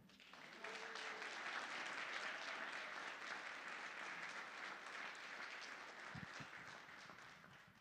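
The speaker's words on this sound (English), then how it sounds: "I think we need an applause for all that." A city council meeting room breaks into sustained applause from the gathered audience, a dense, steady wash of many hands clapping for several seconds before slowly tapering off.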